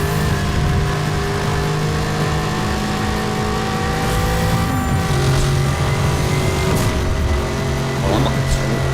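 A car engine in Need for Speed Hot Pursuit revs and accelerates loudly and continuously, its whining tone climbing and shifting with gear changes over a constant rumble.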